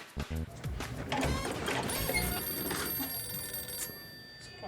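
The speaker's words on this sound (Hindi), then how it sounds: "बागा का फोन।" An old-style telephone bell rings insistently, close and clear, with a few clicks at the start and a continuous jangling trill.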